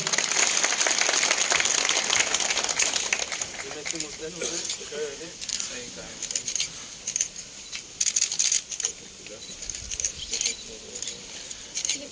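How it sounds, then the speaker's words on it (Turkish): Applause for the village headman rings out at the opening ceremony of a Şile headmen's association. Loud, dense clapping fills the first few seconds, then thins out as a voice speaks over the scattered remaining claps. "Evet tekrar güzel bir alkış alalım Sayın Muhtarımıza."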